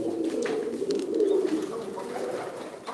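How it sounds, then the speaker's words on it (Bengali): A pair of fancy pigeons at a pigeon farm in Sylhet give soft, close, rolling coos in one continuous, murmuring call with no pauses, over a quiet background. "খুব সুন্দর একজোড়া কবুতর"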